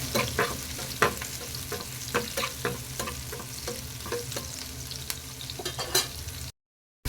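Chopped onion sautéing to light golden brown for egg roast, a steady close sizzle punctuated by frequent sharp spoon scrapes and taps against the pan, ending in a sudden brief silence.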